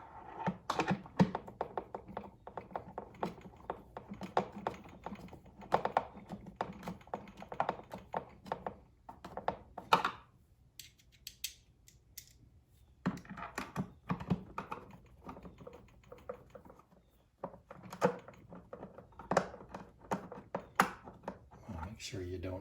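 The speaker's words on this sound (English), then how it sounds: "I'm going to be screwing the handle into these 4 holes with the longer screws." Longer screws being driven by hand into the four holes of a plastic handle on a Sun Joe SPX3000 power washer, heard as irregular close-up clicks, taps and light knocks in bursts with brief pauses.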